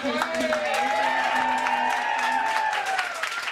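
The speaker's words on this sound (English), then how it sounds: "can everybody please give a big round of applause for Jim Wade?" Audience applause at a poetry reading benefit in Charlottesville, steady clapping from a seated crowd filling the room, with voices murmuring underneath throughout.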